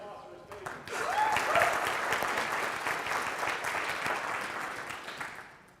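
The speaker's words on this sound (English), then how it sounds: "Give a round of applause for his" An audience at a Three Minute Thesis competition applauds, dense clapping that swells quickly and holds before fading toward the end, with some voices underneath.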